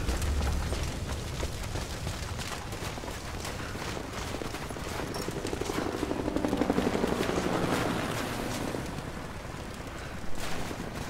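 Helicopter in the video game Rise of the Tomb Raider, a continuous rotor roar with rapid chopping pulses and bursts of gunfire mixed in, loud and sustained throughout.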